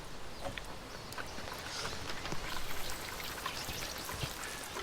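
Heavy rain hammering down in a garden, a dense, continuous pattering and splashing of drops on surfaces, with no voices.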